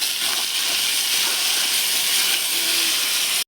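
Sliced onions and capsicum frying in a hot pan with bay leaf and whole garam masala, a steady loud sizzle and hiss close by without pause.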